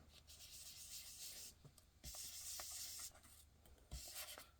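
A Stampin' Up blender brush rubs blue ink onto the center of a paper card, giving soft, close scratchy swishes in short strokes with brief pauses between them.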